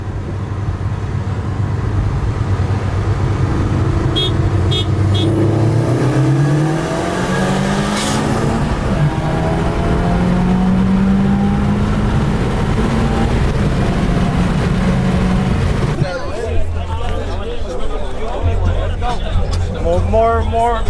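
A Subaru car pulling in second gear, its engine revving and climbing in pitch loud and close from inside the cabin, while people talk over it.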